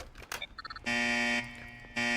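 Unlocking a vault with a key in the video game Death Row brings a few quick electronic beeps, then a loud, sustained buzzing alarm that pauses briefly and starts again, harsh and close.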